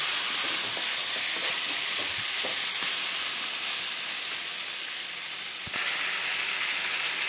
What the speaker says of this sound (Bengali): অল্প অল্প জল দিয়ে মাটনটাকে ভালো করে কষাবো।